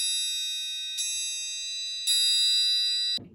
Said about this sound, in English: is called the triangle. And it sounds like this.